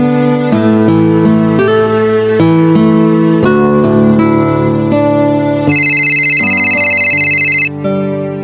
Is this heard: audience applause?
no